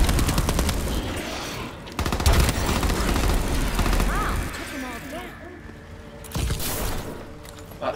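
Weapons fire in Call of Duty: Advanced Warfare zombies mode, with loud rapid automatic bursts and gunshots that come in waves, broken by short pauses and mixed with other game sounds.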